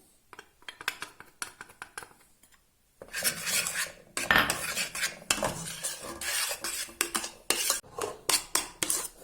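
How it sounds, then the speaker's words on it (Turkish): A metal spoon stirs cocoa into milk pudding in a pot, making clinking, scraping strokes that start quietly and grow loud and rapid, close by with no speech. "Şimdi kakao ile karıştırdım muhallebimi"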